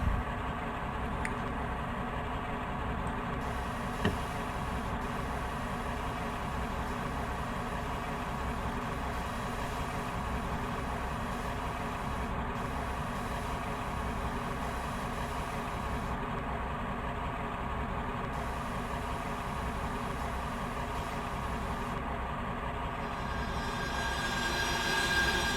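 A Class 53 Falcon diesel locomotive in Train Simulator 2020 rolls into Bovis Junction with a steady, even engine drone that holds unbroken and alone for the whole stretch.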